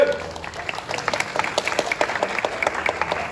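A theatre audience gives steady, dense applause at a stage play, many hands clapping together at moderate distance and filling the room for several seconds.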